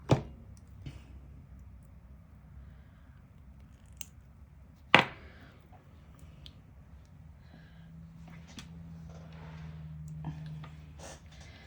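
Scissors trim material from a handmade bohemian-style necklace, with a few sharp, isolated snips close by, one at the start and one louder cut midway, separated by quiet handling noises and a low hum.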